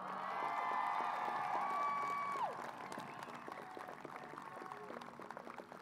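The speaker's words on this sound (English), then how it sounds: "How about a round of applause?" Applause from families and friends at a high school commencement ceremony, steady clapping with some cheering, moderately loud, while a sustained musical tone fades under it.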